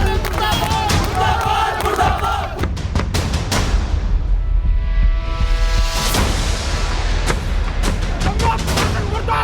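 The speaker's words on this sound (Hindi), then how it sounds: "सैकड़ों लोगों की जमा भीड़, पुलिस के साथ हाथापाई करते लोग और भारी बवाल" A crowd of hundreds in uproar scuffling with police outside a hotel at Banikhet in Chamba district, a loud, dense mass of shouting and clamour with sharp impacts, sustained throughout with surging bursts.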